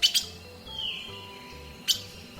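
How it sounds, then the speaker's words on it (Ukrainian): Birds sing in a forest among trees and bushes, giving a few sharp, fairly close chirps at the start and again near the end, over a faint, thin call and a low background hum, with no talking. "кругом дерева, кущі, співають птахи"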